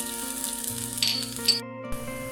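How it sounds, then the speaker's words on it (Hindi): Finely chopped garlic cloves sizzle in a tablespoon of olive oil in a pan, a soft steady frying hiss with a couple of brief louder spits, close by and without talk. "पैन लिया है, इसमें I have added 1 tablespoon of olive oil and 2 cloves of garlic"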